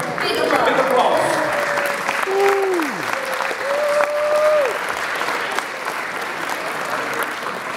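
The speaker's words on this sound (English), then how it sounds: "Big applause. Big applause." Loud audience applause at a fan convention award ceremony, sustained crowd clapping with cheers and whistles rising over it, and a voice speaking through the noise.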